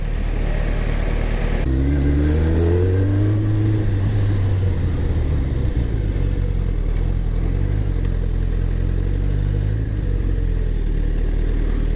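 The Mach-Cleetus car's engine idles loud and close with a deep rumble, revs up and falls back twice early on with rising and falling pitch, then settles into a rough, steady idle.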